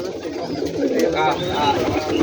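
Rajshahi Giribaz pigeons make soft cooing and fluttering sounds in a steady outdoor wash, with a faint voice in the background.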